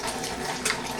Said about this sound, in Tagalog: magpundo ako ng tubig dito sa lagayan